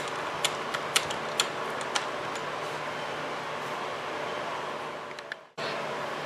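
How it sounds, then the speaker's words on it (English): A ratchet wrench loosening bolts on a 2016 BMW R1200RS motorcycle wheel: a handful of light, close ticking clicks in an irregular rhythm over a steady workshop hiss that briefly cuts out, then resumes. "Remove these two bolts."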